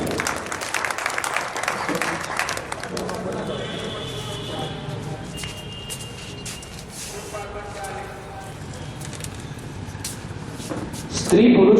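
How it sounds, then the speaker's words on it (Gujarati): A seated crowd gives loud applause to welcome a group of elders at a gathering, a continuous wash of clapping that swells, eases and swells again while voices carry over it. "આવકારીએ જોરદાર તાળીઓ સાથે આ વડીલોને આપણે આવકારીએ."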